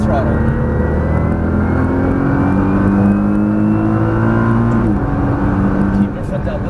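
A Nissan GT-R roars at full throttle on a Las Vegas racetrack, its engine note climbing steadily and loud inside the cabin before a brief shift near the end, with a voice talking over it.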